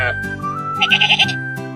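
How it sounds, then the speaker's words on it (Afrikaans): A sheep gives one short, close bleat, a quavering, nasal call that trembles for under two seconds and stands alone without any voices. "Dit is 'n skaap."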